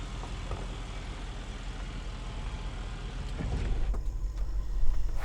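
A Range Rover crawls slowly over off-road terrain with one rear wheel lifted, its rear locking differential keeping it moving; a steady low engine and drivetrain rumble runs throughout, growing slightly heavier toward the end, with no talk.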